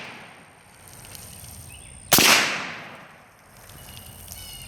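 Single close, sharp gunshot from a Bushmaster ACR rifle, a sudden loud crack that decays over about a second against a quiet outdoor background.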